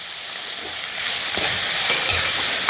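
Shallots and onions with curry leaves and salt sauté in a pan, a loud, steady hiss of frying oil with a few soft stirring scrapes, close up and with no voices.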